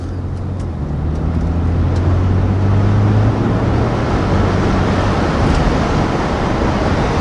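An Alpina B3 with an automatic transmission accelerates in drive, its engine a steady, loud, low drone with faint rising tones as the gearbox shifts near 2,000 rpm, with no talk.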